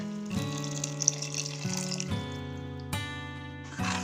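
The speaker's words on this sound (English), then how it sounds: "I'm going to add about 1/4 glass of water to it." Water poured from a glass into a blended spinach paste for Indian-style palak paneer, a steady close trickle and splash running for several seconds, no talking.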